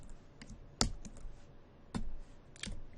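Quick keystrokes clatter on a computer keyboard as someone types a database lookup formula, with a few sharper clacks standing out among lighter irregular taps, close and clear.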